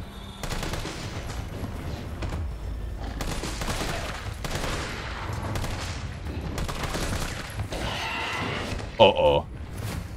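Gunfire in the survival-horror game Resident Evil 3 Remake: repeated shots crackle through a dense, busy game mix, with a louder burst near the end, and a voice talks over much of it.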